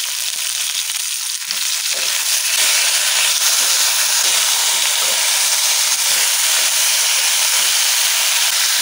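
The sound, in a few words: frying potatoes and drumstick stalks in a pan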